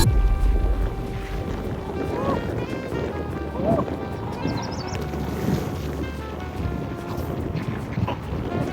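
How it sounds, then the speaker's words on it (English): Steady outdoor wind at a hot campsite by a river rushes and buffets the microphone throughout, a continuous low roar with faint background sounds mixed in. "It's super hot and windy out here"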